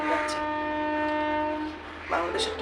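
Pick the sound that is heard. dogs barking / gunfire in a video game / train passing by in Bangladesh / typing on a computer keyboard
train passing by in Bangladesh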